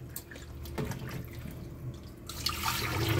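Raw chicken rinsed under a running kitchen tap while cooking chicken pasta, with water pouring and splashing steadily throughout and growing louder and brighter toward the end, with no talking.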